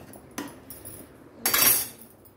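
A spoon scrapes and clinks against a metal cooking pot while fish curry is stirred, giving two brief metallic scrapes over a low simmering background.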